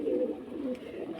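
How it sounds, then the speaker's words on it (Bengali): A Madrasi pigeon squab out of its nest, bitten and swollen, with a short soft cooing murmur heard close and faint, no talk over it. "একটা দেখো ম্যাডাসি পায়রার বাচ্চা, মেচোর বাচ্চা বাইরে চলে এসছে"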